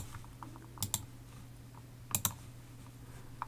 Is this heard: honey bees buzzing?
no